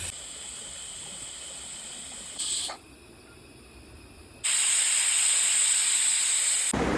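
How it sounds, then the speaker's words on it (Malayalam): A pressure cooker cooking beef vents steam in a loud, high hissing whistle that drops away briefly and then returns stronger and steady, close by. "cooker first വിസിലടിച്ചോ"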